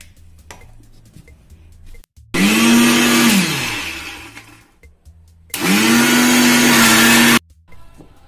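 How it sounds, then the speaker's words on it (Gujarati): A mixer grinder crushes chutney ingredients with about two spoons of water in two loud, steady whirring bursts separated by a short pause, with faint kitchen noise between them. "હવે આપણે આ બધાને ક્રશ કરી લઈશું, તેના માટે આમાં 2 ચમચી જેટલું પાણી ઉમેરીશું."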